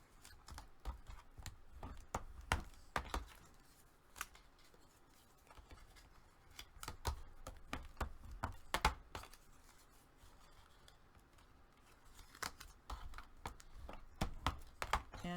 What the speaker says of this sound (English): Let's burnish them first